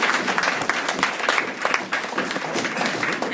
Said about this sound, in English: Look at that, Dan. You got an applause.